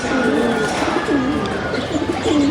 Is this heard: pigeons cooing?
yes